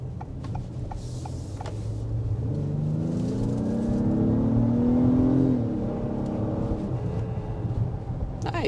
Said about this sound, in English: we're going to start out with a hard acceleration